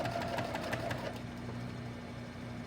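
A Viking Husqvarna 1100 sewing machine stitches with a darning foot during ruler work, giving a quiet, steady mechanical whir with a faint rhythmic ticking of the needle throughout.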